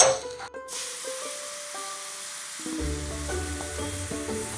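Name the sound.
ingredients sizzling and browning in a pan for pizza sauce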